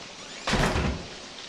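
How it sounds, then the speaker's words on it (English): A door swings open in the horror video game Outlast, a single loud, close thud and rush of noise that swells briefly and then fades out. "This door's open."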